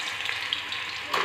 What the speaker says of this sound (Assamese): ধুনীয়াকৈ ফ্ৰাই কৰি ল'ম